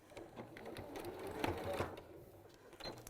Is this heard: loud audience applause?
no